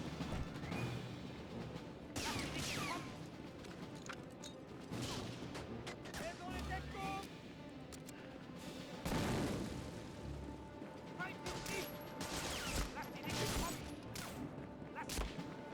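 Gunfire in the World War II shooter Medal of Honor: Frontline, scattered shots and bursts with booming impacts over a dense, cluttered battle mix, with talking in the background.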